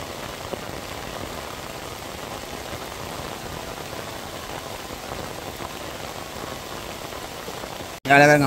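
Heavy rain pours down steadily during flooding in Jaffna, a dense, constant roar of drops on surfaces that runs without pause before cutting off abruptly near the end.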